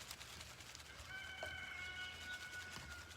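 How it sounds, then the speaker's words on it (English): Rooster crowing during an indoor art class, a drawn-out call with clear harmonic bands lasting about two seconds, moderately distant and set over a low background hum. "Well, there's the rooster"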